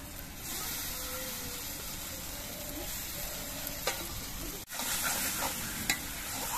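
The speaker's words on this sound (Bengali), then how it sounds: "এবার এর মধ্যে আমি পোস্ত বাটাটা দিয়ে দিচ্ছি" Poppy seed paste added to oil-released spices in a pan, a steady low sizzle, a sudden brief drop, then a louder hiss with occasional stirring clicks.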